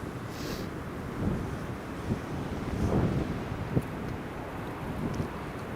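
Wind blows across Newcastle Airport as a steady broadband rush with microphone buffeting, gusting slightly louder midway, and no voices.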